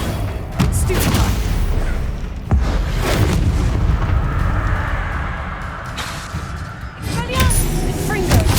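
Spell blasts in the video game Hogwarts Legacy come as loud, booming bursts and rumbling explosions in quick succession, with a voice shouting over the combat.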